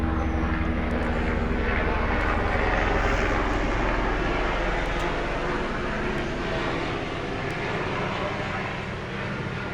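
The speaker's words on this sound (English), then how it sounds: "Didn't want to get into a yelling match with the plane overhead." An airplane passes overhead, a loud continuous engine roar and rumble that fills the whole stretch and fades slightly toward the end, with voices faintly audible beneath it.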